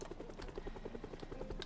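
A helicopter in the zombie survival game Project Zomboid gives a quick, even rotor chop, fairly faint and steady over a moment of background sound.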